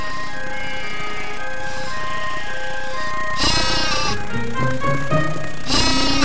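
A flock of sheep in the hills in an animated Bible story, with several loud bleats rising over a soft musical score, bunched near the middle and again at the end.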